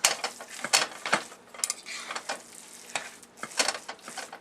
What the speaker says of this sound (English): And then you start frying them.